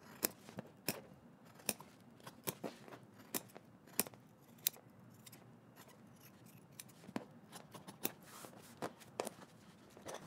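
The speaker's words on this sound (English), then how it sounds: "So what we're going to do first is just to clip off the corners." Scissors snip off fabric corners on a sewn jumpsuit belt in a run of close, crisp, irregular clicks and short cuts. The snips are quiet against a near-silent room, and no one speaks.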